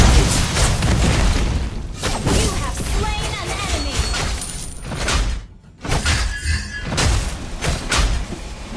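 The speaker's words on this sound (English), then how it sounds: "Our turret has been destroyed." Turret being destroyed in the Mobile Legends: Bang Bang video game, a crashing, shattering explosion amid busy battle effects, with a short dip to near quiet before the clash resumes.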